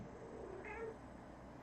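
A cat meows for attention indoors, one short mid-pitched call rising over a low steady room hum, fairly close but soft.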